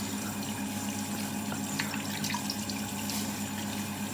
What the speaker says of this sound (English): Rinse the hands a little bit now.